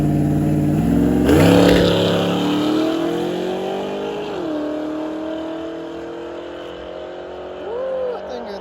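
A Ford Mustang GT350 launches hard off the starting line at a drag strip, its engine roaring loud and close, revving up through a gear change and then settling into a steady, fading drone as it pulls away.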